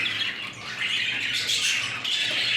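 Show budgerigars squawking in a continuous, busy chorus of harsh, close calls with no speech, a dense flock sound that stays loud throughout.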